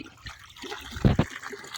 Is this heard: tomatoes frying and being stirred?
no